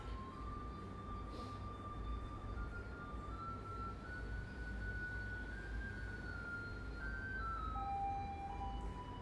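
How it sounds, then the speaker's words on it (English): A bread truck's music box tune plays a melody in thin, high electronic notes from a distance, drifting steadily over a low outdoor rumble with no voices. "If you can hear that music, that's the bread truck."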